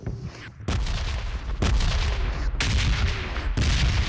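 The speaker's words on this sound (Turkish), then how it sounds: "Tüm bombalar da bana doğru geliyor." Red zone bombardment in the PUBG Mobile battle royale game sends loud, heavy explosions booming in close succession, each a sharp broadband blast with a rumbling tail. No one speaks over it.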